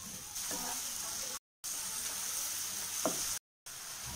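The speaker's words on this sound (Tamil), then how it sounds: "காஞ்ச மிளகாய் சேர்த்து வதக்கி விடலாங்க" Chopped onions and dried chilies sauté in hot oil in a pan, a steady soft sizzle with a couple of brief stirring scrapes, moderately close and fairly quiet.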